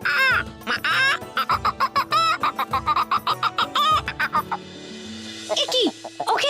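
A cartoon chicken clucks in a rapid run of bright, repeated calls over a background music bed, loud and close, with a rooster-like squawk near the end.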